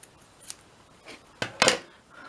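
Scissors snip a small piece off, two quick close cuts with a louder crisp snip near the end, faint earlier handling before them, no talking.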